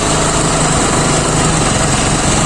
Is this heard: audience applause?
no